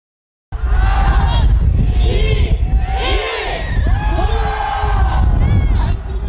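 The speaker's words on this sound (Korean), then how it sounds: "힘찬 함성과 함께 새로운 한 해가 시작됩니다." A crowd at a Jeju New Year celebration roars with cheering and excited shouts, voices rising and falling in loud, sustained waves close by.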